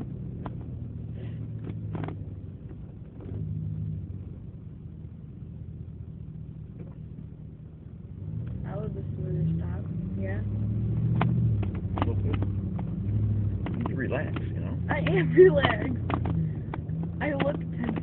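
A car rumbles along an uneven road, its low engine and suspension thumps steady and close inside the cabin, with occasional knocks from bumps while people talk over it.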